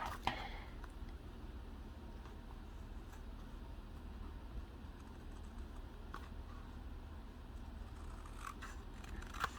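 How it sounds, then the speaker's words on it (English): Scissors cut through designer series paper for handmade cards and envelopes, a faint, steady papery snipping with a few small clicks in a quiet room and no talking. "all you have to do is cut along the lines"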